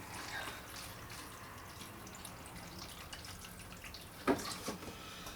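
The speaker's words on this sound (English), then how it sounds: "we're just going to put some water in the tray and we'll let them soak that up" Water trickles and splashes gently into a seed tray of onion seedlings, a faint steady pour with a brief louder splash near the end, no voices.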